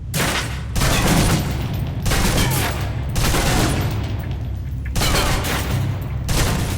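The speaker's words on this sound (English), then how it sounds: "Now, let's move on to the submachine gun. Now let's empty the clip." Submachine gun in the video game Alpha Protocol emptying a full magazine, loud sustained bursts of rapid gunfire broken by short pauses and echoing booms, with no voices.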